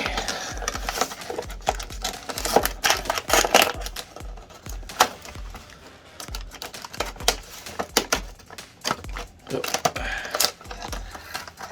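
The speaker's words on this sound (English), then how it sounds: "Grab that X-Acto knife. Let's cut some box." An X-Acto knife slicing open a cardboard shipping box holding a Marvel Legends Lizard figure: close, irregular scratchy cutting and crackling cardboard, with rustling and sharp taps along the way.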